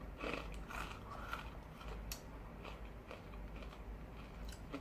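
Repeated crisp crunching from chewing a brittle Korean rice cracker snack, close up, with irregular sharp crackles over a steady low background and no talking.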